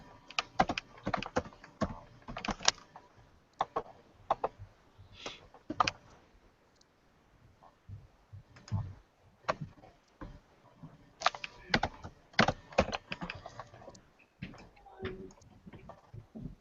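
Bursts of key presses on a computer keyboard as a value is entered into a statistics program, clustered taps with brief pauses, close and clear with no voices.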